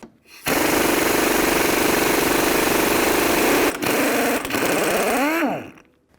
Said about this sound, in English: Now I'm going to use a 7/8 socket. Take this nut off.